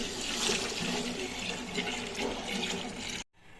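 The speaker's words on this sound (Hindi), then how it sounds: "साथ साथ हम लस्सी डालेंगे और साथ साथ हल्के हाथों से उसको हिलाते रहेंगे" A lassi mixture pours steadily into a pot of fried masala for Punjabi-style kadhi, making a continuous close liquid splash that cuts off abruptly near the end.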